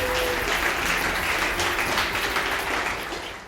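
An online event audience gives a round of applause, a steady dense clapping texture that holds for a few seconds and then fades.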